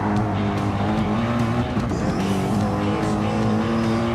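A race car engine roars loud and steady in an online Nurburgring 24h racing video game, with a sustained high-revving drone and faint tyre squeal under it, and no talking.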